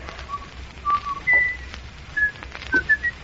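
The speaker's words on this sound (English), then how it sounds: "It's the whistling killer." A man whistles a short, halting tune of clear pitched notes, close and distinct, in a radio mystery drama, with brief pauses between phrases and a faint hiss beneath.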